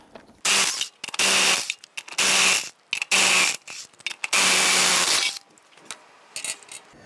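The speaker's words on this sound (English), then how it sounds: "Using your 19mm socket, loosen and remove the lug nuts." Lug nuts on a 1999-2004 Jeep Grand Cherokee front wheel being loosened and spun off with a 19mm socket. Several close, loud bursts of rasping, whirring tool noise, separated by short pauses and ending in quieter clicks and handling.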